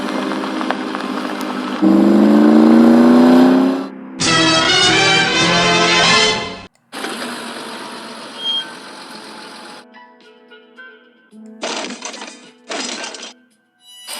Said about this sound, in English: The car is moving out slowly somehow. It's driving by itself.